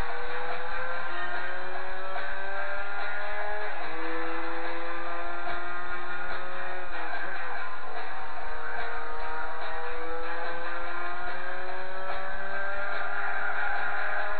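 Turbocharged car engine in Gran Turismo 4, with a Nissan 2000GTR among the cars, a loud steady drone whose pitch climbs, drops at gear shifts and climbs again.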